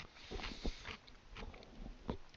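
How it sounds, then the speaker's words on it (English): Close, quiet chewing of food at a desk, soft irregular crunches and mouth sounds repeating every fraction of a second with no talking. "Don't want to have you listen to all of my chewing and whatnot"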